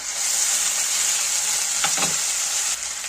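Spice paste of ginger, cumin, garlic, onion and green chilli hits fried onion in a pan, a loud continuous hiss with a couple of brief clatters of the spoon near the middle.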